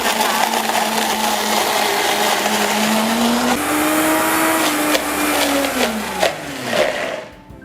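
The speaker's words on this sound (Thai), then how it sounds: "แล้วเราก็จัดการปั่นได้เลยนะคะ วันนี้พี่เน่ใช้เครื่องปั่นเป็นอัดนะคะ" A loud electric blender crushing ice for a coconut milk drink whirs steadily, its motor pitch rising and shifting as it grinds, then winds down and stops near the end.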